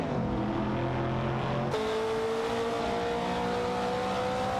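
Two race cars in an AI racing video game, a 1970 Chevrolet Camaro and a Holden Torana A9X, duel with steady droning engines whose pitch shifts sharply partway through as one passes, with no talk.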